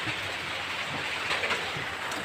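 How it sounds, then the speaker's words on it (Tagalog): Steady rain hisses continuously, a dense even patter with no pauses and no voices. "Umuulan."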